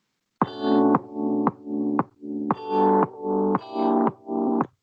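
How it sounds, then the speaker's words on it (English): Sustained keyboard chords through a sidechain compressor in Ableton duck and swell in a regular pumping rhythm, each beat cutting the level before it rises again; loud and alone. "And with the compressor, sidechain compressor, it sounds like this."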